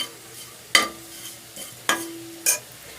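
Tomatoes frying in a pan for a Nellore-style roti pachadi chutney, with a few sharp stirring clinks and scrapes at irregular moments over a faint, steady sizzle.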